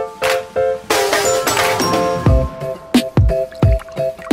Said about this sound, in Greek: Βάζουμε νερό μέχρι ένα σημείο